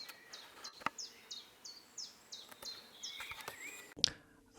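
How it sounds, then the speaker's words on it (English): Woodpecker in woodland close by, a few meters off: a faint series of short, repeated sharp calls at a steady rhythm over quiet background, with a couple of brief clicks. "we were endorsed by a woodpecker which landed on a tree 2 to 3 meters away, and which can be heard in the video"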